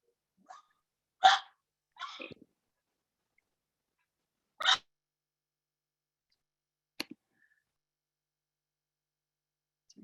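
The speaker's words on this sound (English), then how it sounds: "Somebody's dog is barking." A dog barks nearby in a handful of sharp, separate yelps spread across otherwise quiet moments, with a few fainter sounds between them.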